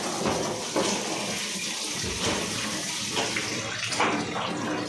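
Tap water runs steadily into a sink while vegetables are rinsed for adobong sitaw, a close, continuous splashing gush with small shifts as hands move under the stream.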